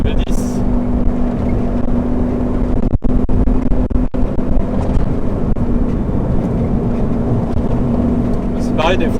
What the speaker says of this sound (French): On va ouvrir un petit peu pour entendre le V10